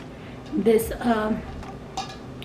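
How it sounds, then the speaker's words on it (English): Chopped onion dropped into a small skillet, giving a brief clattering rattle and a soft sizzle against the pan, heard close and fairly loud in a home kitchen. "I have a little skillet and I'm just gonna drop some onion like that"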